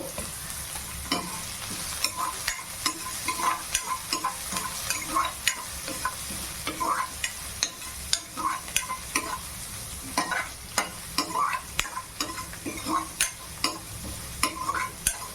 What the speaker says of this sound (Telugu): ఇప్పుడైతే ఆనియన్స్ అయితే బాగా కలపండి